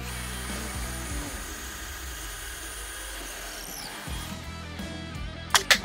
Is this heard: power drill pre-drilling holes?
yes